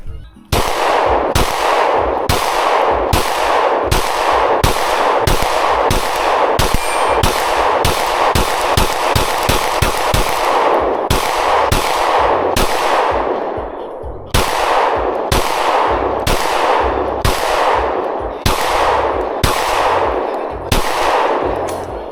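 Rapid, loud Glock 19X pistol shots ring out close by in long steady strings, dozens of sharp cracks in quick succession with a brief pause midway before firing resumes.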